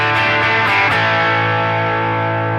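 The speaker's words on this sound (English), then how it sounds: "It puts the overdrive or the Minotaur here on the Fender and boosts up the mesa drive" Electric guitar run through a Line 6 Helix with dual amps, a Minotaur overdrive driving a Fender amp alongside a boosted Mesa, sounds a thick, saturated sustained chord with a few picked accents early on, loud and steady.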